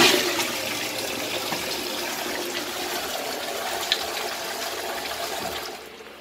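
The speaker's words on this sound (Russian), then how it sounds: "Производим смыв." A wall-hung toilet flushes in a bathroom, a steady rush of water close by that runs for several seconds and then cuts off sharply at the end.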